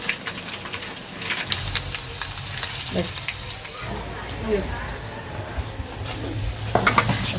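Spices for a tomato pickle tempering fry in a small wok with a crisp, crackling sizzle, joined by scattered spoon scrapes and popping bursts at close range, under occasional soft background speech.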